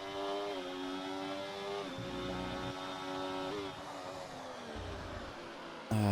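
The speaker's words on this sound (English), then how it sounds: "You hear like a car." A race car engine in an online racing league event at Bahrain, droning steadily with a harmonic whine and shifting pitch through the lap, close and continuous, with a louder burst at the very end.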